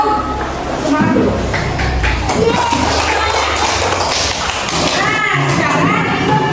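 Children in an Indonesian primary school classroom clap together in a loud, sustained burst of claps, with voices and chatter mixed in throughout.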